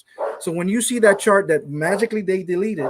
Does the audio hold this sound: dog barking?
yes